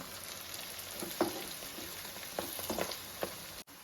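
Marinated mutton for biryani sizzles and fries steadily in a pan, a soft continuous crackle with a few small pops and stirring sounds, fairly quiet.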